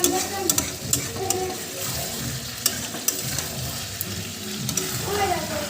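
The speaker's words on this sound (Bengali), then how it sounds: "এই যে গরম জল বানিয়ে রেখেছি ঝোল দেবো গরম জল দিয়ে" Hot water poured into a pan of frying country chicken curry, bringing a loud continuous sizzle and bubbling with scattered clinks and stirring close by.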